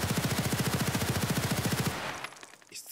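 HK416 rifle in Escape from Tarkov firing a fast full-auto burst of about twenty evenly spaced rounds, loud and close, ending abruptly with faint casing and mechanism clinks after.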